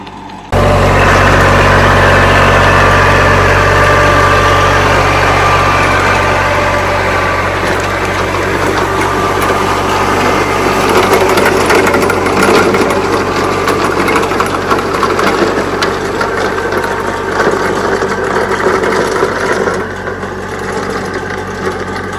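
A tractor engine runs steadily and loud on soft garden soil in Syracuse, New York, a continuous low rumbling drone with no voices over it.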